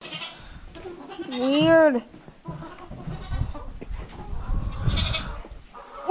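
A goat on a farm bleats while someone holds it, giving one loud, wavering cry up close, framed by people talking and some handling noise.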